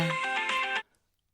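A short burst of an electronic phone ringtone, a bright melodic chime lasting under a second before cutting off into silence.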